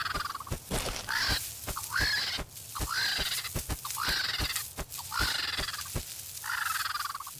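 Vultures give repeated hoarse, rasping cries at a wild boar carcass left by wild dogs, several birds calling in overlapping bursts at close range with sharp clacks between them.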